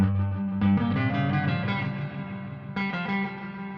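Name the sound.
cheap Eno reverb pedal on spring setting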